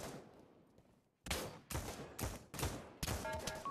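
Pistol fire in the VR shooter Pavlov: after a brief lull, five sharp, loud shots in quick succession, roughly half a second apart, each with a short echoing tail.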